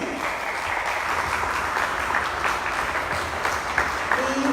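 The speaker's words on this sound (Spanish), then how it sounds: "Un aplauso para ellos." Audience applause closing a talk at a crime fiction festival in Acapulco, a continuous, even crowd clapping throughout, with a faint voice briefly heard beneath it.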